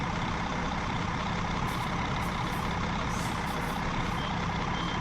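A Marcopolo bus engine starts and runs loud and steady at idle, a constant rumbling drone with faint high beeps near the middle.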